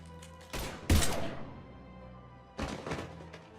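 Gunfire erupts in the Mass Effect video game, two heavy thudding bursts about two seconds apart, each blast followed by a decaying rumble, set over low ambient game hum.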